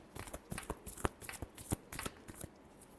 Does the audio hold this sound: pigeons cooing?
no